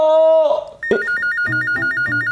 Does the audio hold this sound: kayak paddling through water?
no